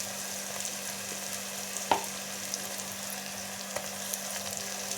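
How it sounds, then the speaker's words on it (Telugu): Onions, curry leaves and mint fry in a pan with a steady, close crackling sizzle, punctuated by a few sharp ticks of stirring. "వీటిని చక్కగా ఫ్రై చేసుకోవాలి"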